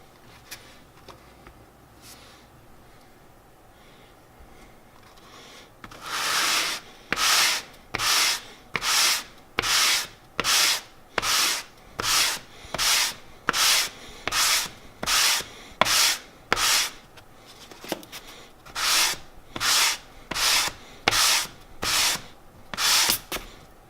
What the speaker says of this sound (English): we're going to sand it down so that the thickness at the beginning is the same as the cork, and it tapers off at the end